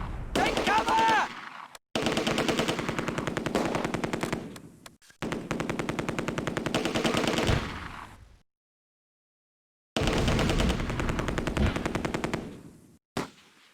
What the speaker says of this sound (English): That's a half-track with just a machine gun in it.